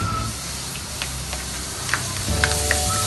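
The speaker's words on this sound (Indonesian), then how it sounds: "Kita panasin mentega, lalu masukkan bawang putih 50 gram yang sudah dicincang halus." Minced garlic frying in melted butter in a pan, a steady dense sizzle and hiss with a few small pops and crackles, close and alone.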